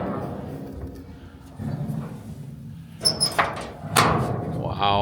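A storage compartment door on a truck opens with a couple of sharp latch clunks and a sliding thump near the end. Someone talks throughout.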